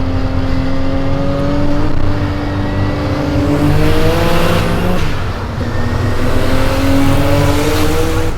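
A 1000 hp twin-turbo Nissan 300ZX accelerates hard from inside the cabin, the engine note climbing in rising harmonic sweeps on boost after a downshift, loud and close, then dipping and rising again.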